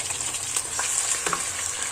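Ground onion, garlic and ginger paste fries in a pan for goat trotter paya, giving a steady close sizzle with faint stirring scrapes and no talking.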